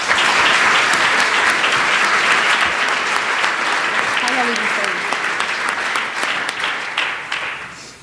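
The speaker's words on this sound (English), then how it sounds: "Let's give them another round of applause." Sustained audience applause fills the room at an opening session of a fall meeting, dense and loud throughout before gradually thinning toward the end, with some voices faintly mixed in.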